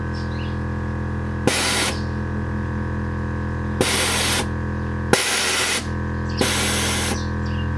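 Four loud bursts of hissing air from vehicle suspension bags dumping, each lasting under a second, over a steady idling engine hum.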